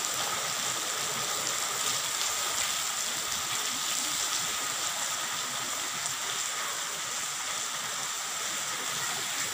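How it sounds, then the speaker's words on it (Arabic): Heavy rain pouring down during a storm in Damanhur, a dense, continuous hiss of water falling and running, steady and uniform throughout with no other sounds standing out. "سيول نازلة شايفين المنظر؟"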